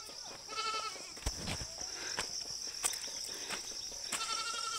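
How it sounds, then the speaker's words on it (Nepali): A goat bleats in a hill village in Khotang, with a short burst of calls near the start and another at the end. Insects chirp faintly and steadily in the background. "बाख्रा"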